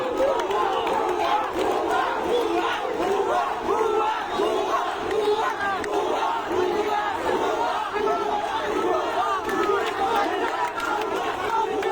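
Student protesters of the quota reform movement chant slogans at a police line near Science Lab on the way to Shahbag, a dense, loud, continuous crowd roar with rhythmic shouted calls and chatter.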